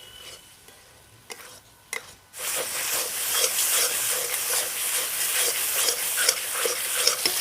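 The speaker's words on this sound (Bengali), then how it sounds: "মশলাটা খুব সুন্দরভাবে আমি কষিয়ে নিয়েছি।" Spice paste frying in oil for a chicken dish: after a quiet start, a loud close sizzle bursts in and holds steady, with repeated scraping stir strokes through the crackling hiss and no talking.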